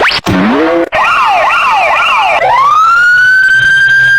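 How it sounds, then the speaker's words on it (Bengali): A cartoon police car siren wails close and loud, starting with rapid rising-and-falling yelps and then settling into a sustained steady tone, with no voices over it. "এটা পুলিশের গাড়ি। এই গাড়ি আমাকে অপরাধীদের ধরতে নিয়ে যাবে।"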